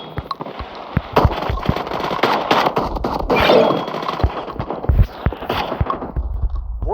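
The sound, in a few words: auto shotgun firing Dragon's Breath rounds in a video game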